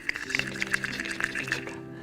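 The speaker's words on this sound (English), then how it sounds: "you would do this, and this would stir it up and make it very frothy" A wooden molinillo whisk stirs and froths chocolate liquid in a vessel, giving a rapid, splashy sloshing with quick liquid clicks that fades out toward the end.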